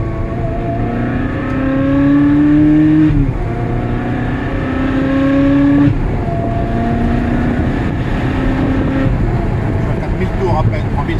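Ferrari 360 engine revving through rising harmonic sweeps, climbing in pitch roughly every few seconds with a metallic exhaust note, steady and fairly loud, near and continuous.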